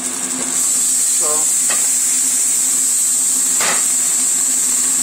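French toast and eggs frying in a restaurant pan, with a loud, constant hissing sizzle throughout and a few brief knocks and taps of cookware.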